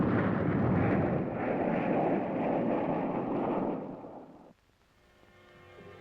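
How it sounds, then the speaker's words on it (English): Sustained loud roaring rumble of airstrike explosions recorded from a low-flying aircraft over Vietnam, a dense continuous blast-and-engine roar that suddenly drops away, leaving a quieter droning background. "the combat cameraman records airstrikes against the enemy below him"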